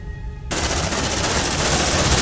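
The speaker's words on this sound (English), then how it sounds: "Sentry gun loaded." A sentry gun in the Aliens: Dark Descent video game opens fire with sudden, loud, sustained automatic bursts that keep roaring without a break.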